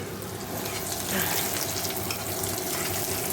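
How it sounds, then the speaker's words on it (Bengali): Onions sizzle and crackle steadily in a hot pan, a continuous frying hiss without pause. "ডাল ফোরন দেবো বলে পেঁয়াজ ভাজছে"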